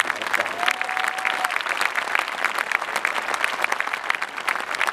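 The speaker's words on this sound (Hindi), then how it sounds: "मैं चाहता हूँ इन तमाम कवियों के सम्मान में एक बार जोरदार तालियां" An audience at a kavi sammelan poetry gathering gives the poets steady, lively applause with sharp individual claps standing out, continuing evenly for the whole stretch.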